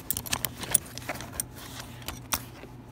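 Gear wrench ratchet wrenches clinking in a tool pouch of a calibration tool backpack, a run of close, sharp metallic jangles and taps in an irregular rhythm.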